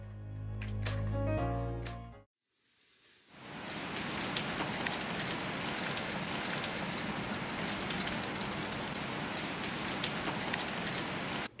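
Heavy rain pours steadily along the Oregon Coast at the Samuel H. Boardman Scenic Corridor, a dense continuous hiss that takes over after a short louder sound and a brief near-silent gap.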